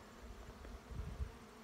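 Honey bees buzz around their hive on a cold, snowy October day, a faint, low hum with small swells as insects move close by, heard alone without talk.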